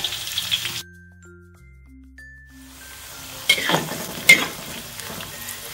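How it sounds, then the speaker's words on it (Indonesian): Garlic stir-fried in a pan for street-style noodles, with a soft sizzle and stirring scrapes after a quiet stretch of faint tones, rising to a couple of louder clatters near the end. "Ini kita akan tumis sampai harum ya teman-teman."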